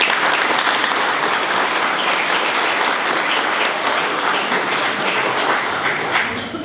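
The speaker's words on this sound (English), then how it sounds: "So please give them a round of applause." A crowd at a mayor's reception in Holyoke applauds continuously for several seconds, producing a full, dense roar of clapping at steady loudness that thins only slightly at the very end.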